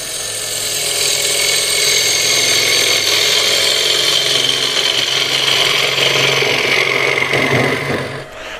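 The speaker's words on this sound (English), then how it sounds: "this is, by the way, a crown ball gouge." A crown ball gouge cuts into wood with a continuous close scraping, rasping stroke that holds steady for several seconds before easing off at the end, with no talk.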